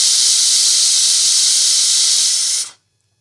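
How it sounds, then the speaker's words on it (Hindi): A pressure cooker cooking mixed vegetable pulav on a gas stove releases steam through its whistle, a loud continuous close hiss that stops abruptly after nearly three seconds. "यहाँ हमारी सीटी लग चुकी है"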